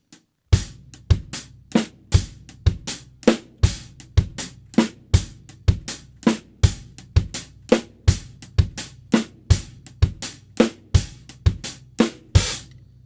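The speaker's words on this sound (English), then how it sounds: "Then try and get the bass drum and the snare drum in there." A steady ska-style drum kit groove with regular bass drum and snare hits and crisp accented hi-hat strokes, loud and close, repeating evenly for several bars without talking.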